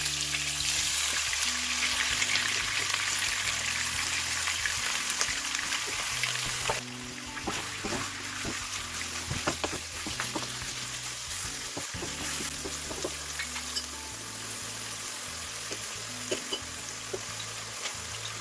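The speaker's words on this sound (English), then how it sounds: "Now the oil is ready, so now I'm gonna put some of the chops in there. First I'm gonna fry the chops." Lamb chops frying in hot oil for a masala curry, a continuous close sizzle with crackling pops and occasional stirring clinks, louder at first and settling slightly after a few seconds, with no talking.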